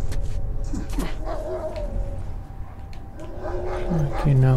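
Dogs bark and whimper in The Last of Us Remastered, a few sharp yelps rising near the end beneath steady talking over continuous game ambience.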